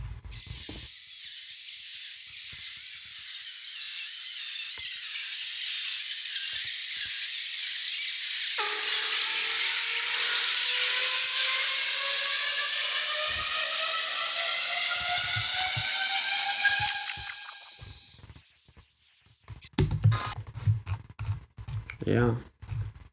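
Seagull calls, pitched up ten semitones and heavily processed, form a bright, hissy synthetic wash that climbs steadily in pitch for about seventeen seconds, then break into short, choppy fragments.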